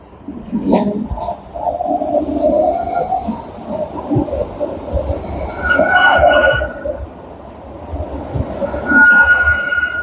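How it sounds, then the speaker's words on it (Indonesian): A train at a rural stop surrounded by greenery, with rumbling wheels and high metallic squeals rising and fading, loud and fairly near, mixed with background voices. "tuh keretanya ini tempat pemberhentian kereta ya sahabatku."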